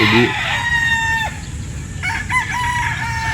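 A kanawayon rooster, a breeding bird on a fruit farm, crows once up close in a loud, drawn-out call with a couple of short clucks around it. No one speaks.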